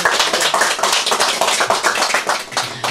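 Dense, steady hand clapping from a group of people at a birthday celebration, many overlapping claps forming continuous applause throughout, close and fairly loud.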